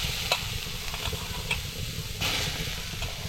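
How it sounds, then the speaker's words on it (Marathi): Cluster beans roast on a hot iron griddle over a wood-fired stove, sizzling continuously while a spatula scrapes and stirs in quick, irregular strokes close by. "आता आपल्याला ही गवारी आहे ना भाजून घ्यायची आहे"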